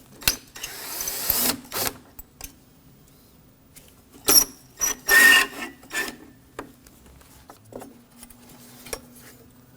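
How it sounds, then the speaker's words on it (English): Scattered metallic clinks, scrapes and rattles while screws are removed with a number 2 Phillips screwdriver from a metal shroud on a 2016-2022 Honda A/C condenser cooling fan assembly, close and irregular with quiet gaps. "We're going to go ahead and remove this with two number 2 Phillips heads."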